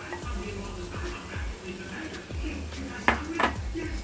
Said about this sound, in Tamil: இப்போ நல்லா மிக்ஸ் பண்ணி விடுங்க.